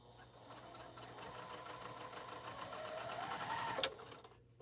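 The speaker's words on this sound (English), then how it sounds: "I'm sewing the sleeves right now." A sewing machine stitching quilt sleeves runs steadily for several seconds with a fast rhythmic needle chatter and a faint whirring motor, quiet and close, ending with a brief clack as it stops.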